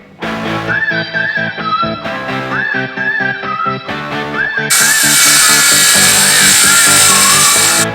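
A power tool with a carbide blade cuts during a jet ski conversion to a glass bottom boat. A loud, close, whining buzz comes in short repeated bursts, then turns into a harsher, continuous gritty roar.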